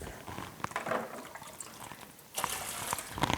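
Water poured onto a tray of beet microgreens the day before harvest, a close, splashy, uneven trickle that thins briefly and then pours heavier again toward the end, with no talking.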